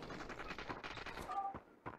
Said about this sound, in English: I hear shooting this way.